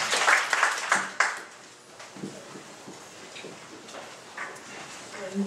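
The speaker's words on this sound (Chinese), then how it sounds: "那我们是最热烈的掌声欢迎两位老师" An audience at a Taipei literary festival talk claps to welcome two speakers, a short burst of applause that fades within about a second before a voice speaks quietly.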